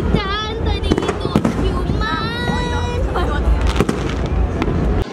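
Fireworks bursting during a New Year 2023 countdown celebration, a steady barrage of crackling bangs and sharp pops over crowd babble, with people talking nearby throughout.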